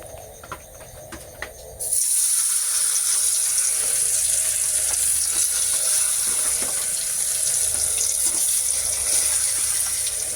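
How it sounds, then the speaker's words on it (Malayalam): Steady, loud hissing sizzle of mullet fish frying in hot oil starts abruptly after a quiet couple of seconds and continues evenly to the end. "നല്ല നെയ്യുള്ള കണമ്പായിട്ടാവും നമുക്കതൊന്ന് വറുത്തെടുക്കാം"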